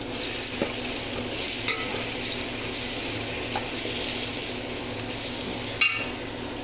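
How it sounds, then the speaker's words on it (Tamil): Tomatoes sautéing in a pan for biryani, with a steady broadband sizzle, occasional stirring scrapes and a brief clatter near the end, no talk. "கொஞ்ச நேரம் நல்லா வதங்கட்டும்"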